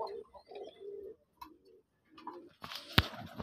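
A sky-blue male pigeon coos in short soft phrases at close range, with a sharp click and rustling noise near the end.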